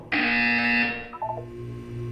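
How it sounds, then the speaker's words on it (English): A loud, harsh electronic buzzer from the Portal 2 video game sounds for about a second, followed by a short descending chime and a low hum. "When you hear the buzzer, look down at the floor."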